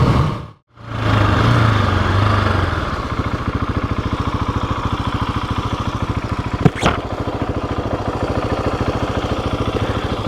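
A GasGas ES 700 dual-sport motorcycle runs with a steady, close engine drone and a throaty pulse. The sound cuts out briefly near the start, and a sharp click comes later.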